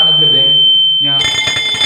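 A smoke detector in a fire detection and alarm system demo sounds off with a steady, piercing electronic tone, set off by smoke alone after the flame is out, which later breaks into pulsing beeps under the rest of the clip.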